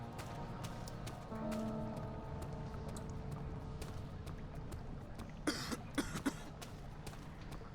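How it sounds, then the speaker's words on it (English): A character in the horror game Amnesia: The Dark Descent coughs in a short burst of three or four coughs over a steady low game ambience. "Why am I coughing?"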